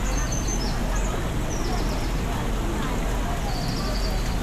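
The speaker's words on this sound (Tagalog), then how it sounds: "Mga ibon yan." Birds in the biodome of Manila Ocean Park call over a steady, loud indoor hubbub, with short chirps and honk-like calls rising above crowd noise and nearby chatter.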